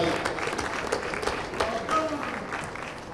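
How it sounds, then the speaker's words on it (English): Steady audience applause fills a hall at the 40th MTN-SWAG Awards ceremony, honouring the discovery of the year. A dense, even wash of clapping runs throughout with some crowd noise beneath. "Let's give her a big round of applause."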